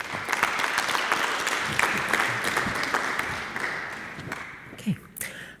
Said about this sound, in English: with a huge round of applause, Taiki Sato